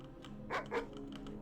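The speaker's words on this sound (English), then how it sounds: "I can still hear the friendly dog." A friendly dog barking in the video game Guild Wars 2, two quick soft barks in succession at moderate distance over a low steady background hum.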